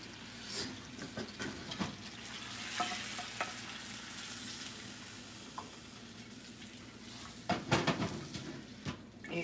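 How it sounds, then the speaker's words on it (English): Eggs are stirred with a wooden spoon in a frying pan, giving a steady soft sizzle with scraping strokes that build to a louder cluster of clatter near the end. No one speaks. "Use a wooden spoon for the eggs."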